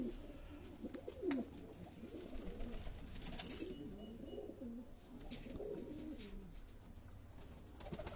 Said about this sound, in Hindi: ये सियालकोटी ब्रीड का ये कबूतर आपको दिखाया